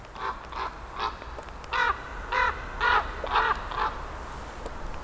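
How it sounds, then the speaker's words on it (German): A pair of common ravens calling in duet in a winter forest, a series of about eight hoarse croaking caws in a loose rhythm, moderately distant and fairly faint over a quiet outdoor background. "Oh, da ist ein Kolkrabenpärchen."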